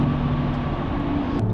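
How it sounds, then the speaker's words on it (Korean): A Mercedes-Benz EQS electric car's virtual acceleration sound: a steady low electronic hum with tonal bands, like a synthesized motor drone, holding level throughout with a brief airy turbo-like whoosh near the end. "마치 내연기관 터보차들처럼 공기가 좀 그 터보로 빨려 들어가는 듯한 씩 하는 소리도 잠깐 나요"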